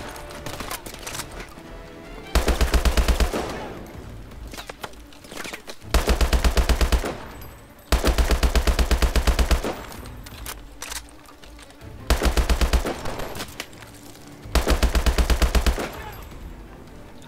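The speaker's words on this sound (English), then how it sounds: "Are you shooting at me, you little dickhead?" Gunfire in Call of Duty: Advanced Warfare comes as about five loud, rapid automatic bursts separated by quieter stretches of game ambience, close and punchy, with no talk.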